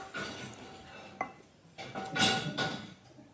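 Cake batter being mixed in a bowl with a wooden spoon: soft scraping strokes with a few clinks, in uneven bursts and fairly quiet.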